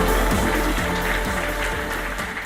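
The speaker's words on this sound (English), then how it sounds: "Let's give her another round of applause." Audience applause at a ceremony honouring legends, a dense steady wash of clapping from a crowd that stays loud throughout.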